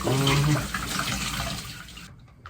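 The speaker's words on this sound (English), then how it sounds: "Water pressure is very heavy." A household tap runs hard under heavy water pressure, a loud broad rushing gush that gradually softens and then stops near the end, with a voice speaking briefly underneath at the start.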